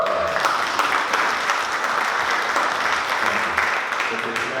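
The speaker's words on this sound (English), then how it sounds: "please give you guys yourselves a round of applause for being here this evening" Evening talk audience applauding themselves, a full, steady round of many hands clapping in a hall, moderately loud and even, with a faint voice near the start.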